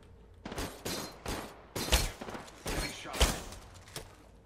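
Bursts of automatic gunfire from Conduit in the shooter game Apex Legends, several rapid volleys with heavy low thumps, fairly loud and close, no talk over them.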